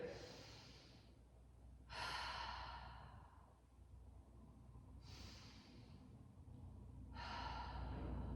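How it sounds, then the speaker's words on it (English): Slow breathing in a seated yoga pose: several long, close, audible breaths, each a soft airy swell that fades, spaced a few seconds apart in a quiet room. "So take 3 breaths here."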